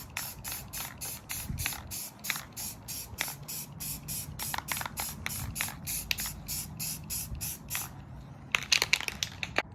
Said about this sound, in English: Now I'm gonna coat it in some spray paint